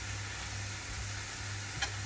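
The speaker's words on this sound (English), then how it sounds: "I'm going to add some cabbage to it" Cabbage stir-fries in a flat pot, giving a dense, even sizzling hiss with a low hum beneath and one brief clink near the end.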